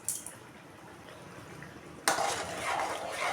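A pot of tamarind okra kara kuzhambu being stirred with a metal spoon, soft scraping and clinking against the pot over a low simmering hiss, getting louder and busier in the second half.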